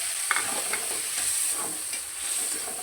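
Spice paste for a bottle gourd dish sizzles in a pan with an even, soft hiss and a couple of faint stirring taps, no voices over it.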